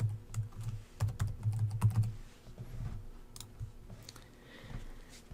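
Someone types quickly on a computer keyboard, a close run of soft, irregular key clicks that thins into sparser taps toward the end, with no voices.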